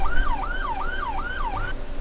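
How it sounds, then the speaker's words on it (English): A police siren in the Brick Rigs video game wails up and down in a steady repeating cycle, moderately loud over a low engine rumble before cutting off near the end. "as soon as I join, I hear cops."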